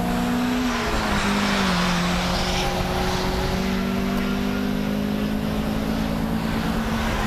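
A race car engine drones steadily nearby, its pitch dipping briefly as it passes, with constant loud motor noise throughout.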